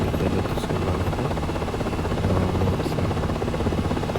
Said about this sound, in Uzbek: bu prezidentga tegishli vertolyot hisoblanadi